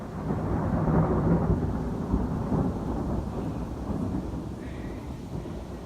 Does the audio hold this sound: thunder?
yes